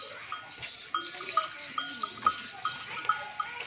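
A pregnant goat, close to kidding, walks about a goat farm, giving a run of light, evenly spaced chime-like ticks over a steady rustling background, with no talking.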